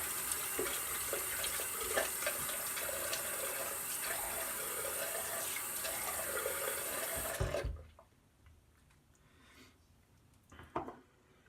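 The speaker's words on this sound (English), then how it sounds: "I'm going to quickly wet the face" Tap water runs and splashes steadily in a sink as the face is wetted before shaving, then stops abruptly partway through, leaving quiet room noise with a few faint drips and handling sounds.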